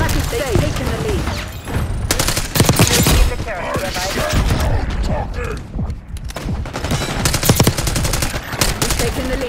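Dense gunfire with bursts and single shots in a multiplayer video game match on the Babylon map, loud and continuous, with game voice callouts and talking running underneath.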